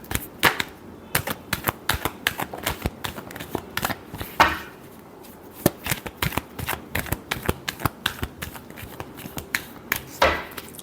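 Tarot cards are shuffled by hand close up, giving a long run of crisp, rapid slaps and riffles with brief uneven gaps and no talking.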